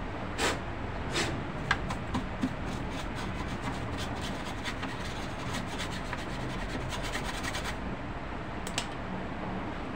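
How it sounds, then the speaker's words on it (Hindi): A brush scrubs dust off an Inverex UPS circuit board in quick repeated rubbing strokes, a dry bristly scratching close to the microphone with a few sharper clicks. "एक ब्रश ले लें और उससे इसको साफ़ कर लें"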